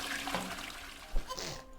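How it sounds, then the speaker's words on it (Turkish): Toilet flush in a video game: a rushing burst of water with broad hiss, a swell near the end, heard close and loud with no talk over it. "La oğlum sifonu çekme ha."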